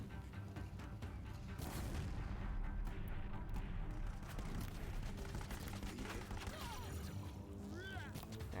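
In Horizon Zero Dawn, a blaze canister is lit and an enemy goes up in flames: dense, roaring bursts and rumbling booms fill the whole stretch, loud and continuous, with game clatter mixed in.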